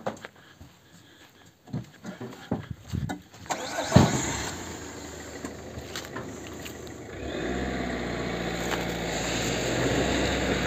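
A car engine revs up and pulls forward with a load on a rural farm property, a steady low drone building in loudness after scattered knocks and clunks.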